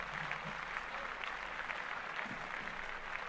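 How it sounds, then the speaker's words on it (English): Soft, distant applause from a small group at a podcast recording, a quiet continuous patter of clapping with no voices over it. "Let's clap that up."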